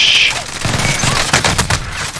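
Rapid submachine-gun bursts fire in a Warzone battle royale match, sharp and close, arriving in quick clusters of shots with brief gaps between them.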